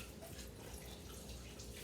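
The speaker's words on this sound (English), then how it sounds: "make sure you wring out all the water" Water wrung from a damp tie-dye cloth and running into a bucket, a faint continuous trickle and splash, quiet and close.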